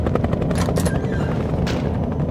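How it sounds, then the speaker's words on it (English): A helicopter in the horror video game Nightmare House 2 roars loudly and close, its rotor chop steady throughout with a few sharp bursts over it. "Oh, the helicopter!"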